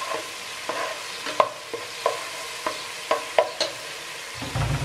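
Flour and other ingredients for chicken bhuna khichuri fry in hot oil in a pan. A steady low sizzle is broken by intermittent scraping clacks of stirring, and louder frying swells at the end.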